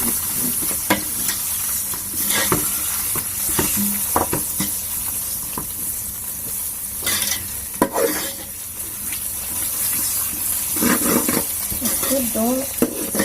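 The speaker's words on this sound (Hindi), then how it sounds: "ये भुन गया अच्छे से अदरक लहसुन का पेस्ट।" Ginger garlic paste frying in a pan over raised heat, giving a constant loud sizzle and hiss with recurring scrapes and knocks of stirring throughout.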